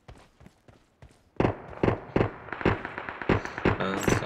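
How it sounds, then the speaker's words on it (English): Gunshots in the PUBG video game, a quick series of sharp popping shots, muffled and distant at first, then louder, denser bursts in rapid succession with no talking. "And some more shots in the distance."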